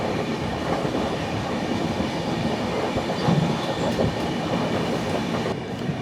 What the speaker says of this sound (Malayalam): രാജ്കോട്ട് സെക്കൻഡരാബാദ് എക്സ്പ്രസ് ആയിരുന്നു.